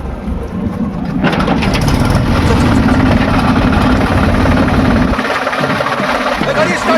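Two tractors hauling a stuck tractor free, their engines rumbling heavily and steadily close by, with a deep low throb that eases slightly near the end.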